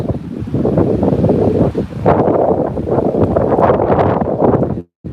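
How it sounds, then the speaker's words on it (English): Strong storm wind roars at a beach in near hurricane conditions, buffeting the microphone in loud continuous gusts blended with the rush of surf. "it's almost like hurricane weather today"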